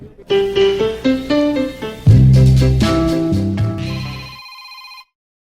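A cellphone rings with an incoming call, a loud, close melodic ringtone of stepped tones that plays alone for about five seconds and then stops.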